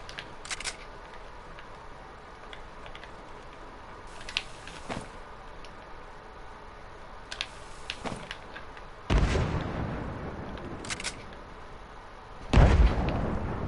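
Sniper fire in the video game Fortnite: sharp, loud shots punch through at intervals over a quiet stretch of game ambience, with two especially heavy blasts near the end.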